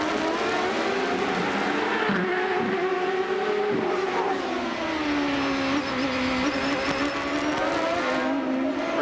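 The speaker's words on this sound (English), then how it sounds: "On board once again with Bobby Rahal." Onboard engine sound from a CART Indy race car at the 1996 Detroit street race, a loud, continuous high-revving drone that rises and falls with gear changes and throttle lifts, with no talking.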